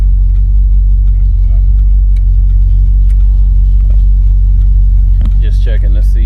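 A 1964 Cadillac DeVille convertible engine idles with a deep, steady low rumble, close and loud, with a few clicks and brief noises on top.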